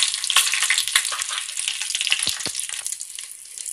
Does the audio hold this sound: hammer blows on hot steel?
no